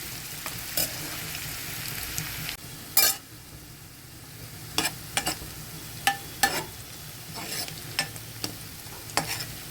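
Onions fry in a pan for rajma masala, giving a continuous close sizzle with repeated scraping spoon strokes and light metallic clinks.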